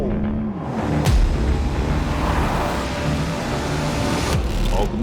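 A Porsche Taycan electric car accelerates with its Push to Pass boost engaged, a rising synthetic whine climbing in pitch over road rumble, with brief speech near the start.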